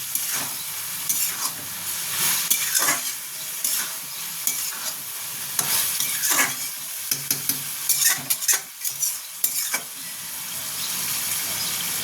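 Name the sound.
stir-frying snake gourd in a pan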